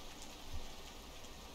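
Steady rushing water in the video game Rain World, a soft continuous wash with faint drips, low and even throughout with no talk.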